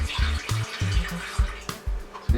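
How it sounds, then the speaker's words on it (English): Tap water runs and splashes into a saucepan in irregular gurgling bursts, close and fairly loud, with a low kitchen rumble underneath. "put some water into the saucepan, just a little bit"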